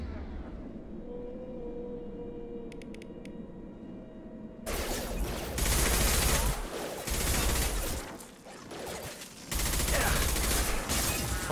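Bursts of dense gunfire in a Mass Effect 2 firefight, starting abruptly after a quieter stretch and running loud and sustained with brief dips between volleys.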